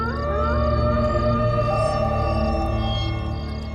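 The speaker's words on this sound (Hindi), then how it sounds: "ये तो किसी लोमड़ी की रोने की आवाज लगती है।" A drawn-out, wavering wail of a crying fox as a movie sound effect, loud and continuous, with sliding pitched tones layered over a low drone.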